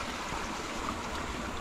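Water rushes and splashes over rocks at a stream intake built for a micro hydro system, where stones have been turned to steer the flow; a steady, close, broadband wash continues throughout with no voices.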